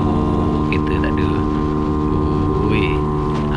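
A motorcycle's engine drones loud and steady while riding along an empty main road in Kuala Lumpur, a continuous rumble with wind rush, and a rider speaks briefly over it.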